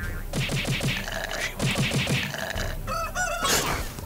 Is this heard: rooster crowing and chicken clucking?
yes